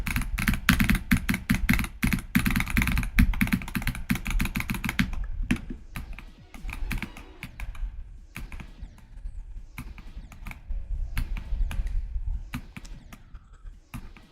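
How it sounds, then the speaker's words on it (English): Rapid computer keyboard clicking during a live game stream, dense and loud for the first five seconds, then sparser bursts and scattered taps continuing close to the mic, with no talking. "How is it more satisfying with the keyboard? You can do like click patterns."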